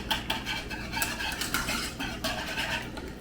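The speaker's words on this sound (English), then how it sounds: "I'm going to turn it off. I keep stirring." A spoon stirs mac and cheese in a pot on a switched-off stove, making continuous close scraping and clinking with a rhythmic metallic rasp and no talking.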